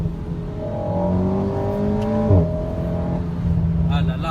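An Alpine A110 sports car engine pulls steadily along a country road at speed, a smooth rising tonal hum with a brief gearshift blip midway, heard from inside the cabin with someone talking over it.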